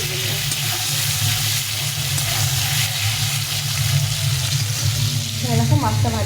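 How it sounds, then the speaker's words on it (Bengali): Potatoes frying in oil with salt and turmeric, giving a continuous dense sizzle under a low hum, with a few stirring sounds and faint voice-like tones near the end. "সামান্য একটু লবণ, হলুদ করে দিয়ে আলুটাকে ভালো করে ভেজে নেব"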